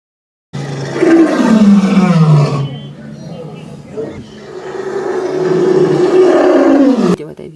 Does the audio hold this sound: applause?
no